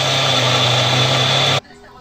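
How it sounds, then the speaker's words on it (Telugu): A kitchen mixer grinder blends chutney ingredients in its jar, running as a loud, steady motor whir that holds for about a second and a half, then cuts off abruptly into near silence. "అన్నీ మిక్సీలోకి అయితే వేసుకుంటున్నాను."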